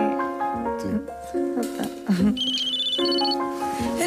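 A phone rings repeatedly with a melodic electronic tone while people talk loudly over it nearby.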